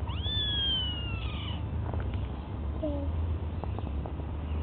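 A baby kitten gives a long, rising then falling cry up close, followed by a short, fainter meow, with quiet room noise between.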